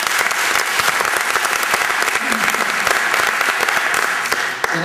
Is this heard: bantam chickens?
no